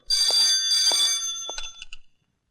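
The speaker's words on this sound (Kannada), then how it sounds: "ಫೋನ್ ರಿಂಗ್ ಆಗ್ತಿದೆ ತೊಳು." An older telephone bell rings indoors in a Kannada film scene: two long bright rings followed by a few shorter clipped bursts, clear and fairly loud, with no voices.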